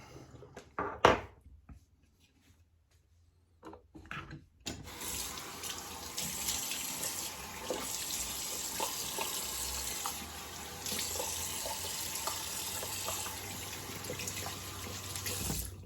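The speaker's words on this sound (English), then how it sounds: "Rinse with some nice cold water." A few clunks and a short quiet pause, then a tap opens and water runs steadily into a sink, a continuous splashing rush to the end.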